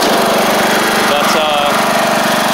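A MTD Craftsman LT1500 riding mower runs with its swapped-in engine, a loud, steady, close droning rumble with no break, and a brief voice faint underneath.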